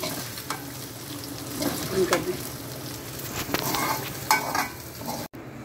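Arbi (colocasia) pieces frying in hot oil, a continuous close sizzle with occasional bubbling pops and light stirring.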